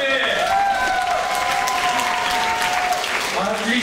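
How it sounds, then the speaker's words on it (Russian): A group claps continuously and loudly in a studio recording session, with voices calling out and cheering over the applause. "Аплодисменты!"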